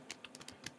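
Quiet computer keyboard typing, a quick run of about eight light key clicks at an uneven pace, close but faint with no speech.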